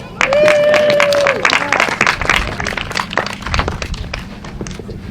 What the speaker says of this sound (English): give yourselves all a round of applause for being awesome